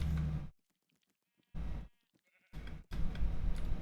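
Sheep in the Minecraft video game bleat in three separate bursts, loud and close, with near silence in the gaps between them.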